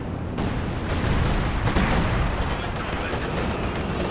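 Artillery fire in the real-time strategy game Company of Heroes 2, a dense continuous barrage of booming blasts and gunfire rolling at steady loudness through the whole stretch, with no pauses.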